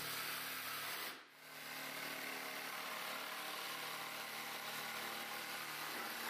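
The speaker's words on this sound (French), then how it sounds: "Avec une scie sauteuse, vous pouvez les découper facilement." A jigsaw cuts through an MDF panel while a toilet is being fitted in a bathroom build, giving a steady, quiet buzzing drone with one brief dip near the start before it resumes.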